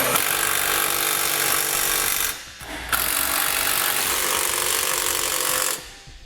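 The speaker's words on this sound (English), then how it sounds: "I'm going to come back with a 19mm socket and snug up all my hardware." A 19mm socket snugs up trailer hitch bolts on a 2013 Nissan Rogue, with a loud, steady mechanical whirring and rattling that stops briefly partway through and then runs on until the end.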